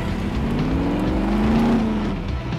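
Car engine droning steadily while driving in the survival video game SCUM, a loud, close, continuous motor rumble with slight rises in pitch and no voices.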